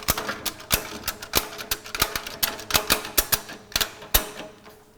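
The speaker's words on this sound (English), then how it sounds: "and then operate the ratchet." A ratchet strap tightened on a drum tipper, giving a rapid run of sharp, close metallic clicks in uneven bursts, each pawl snap distinct as the strap is cranked tight.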